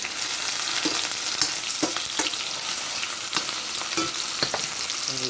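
Carrot stir-frying in a pan for noodles: a steady, loud sizzle with repeated scraping stir strokes, close and continuous with no voices.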